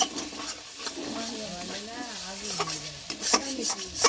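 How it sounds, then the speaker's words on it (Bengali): Prawns sizzle in a pan with sour curd while being stirred, a steady close frying hiss with scraping strokes of a spoon against the pan and occasional clinks, alongside a faint voice. "টক দইটা কেটে যাবে এই জন্য আগে কষিয়ে নিচ্ছি"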